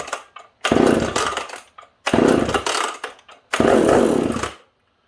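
A right-side-start McCulloch 10-10 chainsaw that is hard to start and boggy gives three loud, close, snarling bursts of about a second each with short gaps between them as it sputters and catches.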